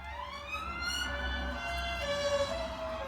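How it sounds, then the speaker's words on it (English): Sirens from a police car and fire engines pass by outdoors, wailing and overlapping at moderate distance over a steady rumble of traffic, with no one speaking. "Cop car and some fire engines."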